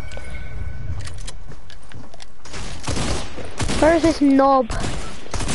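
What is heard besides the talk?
gunfire in a PS4 video game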